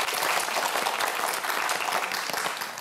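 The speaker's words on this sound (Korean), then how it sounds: "박수 한번 보내주세요." Studio audience on a Korean television quiz show applauds, a dense steady burst of many hands clapping for about three seconds, close and fairly loud with no talk.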